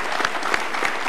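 Short burst of live audience applause for Indonesia's youngest governor at a televised presidential candidate event, loud and close with several distinct claps standing out from the dense crowd clapping.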